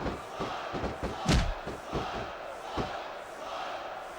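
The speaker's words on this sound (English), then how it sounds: "This capacity crowd is certainly getting its money's worth here tonight." Arena crowd in the wrestling video game Smackdown vs Raw 2006 roars steadily through the whole stretch, with several thuds of bodies hitting the mat and a louder slam near the middle.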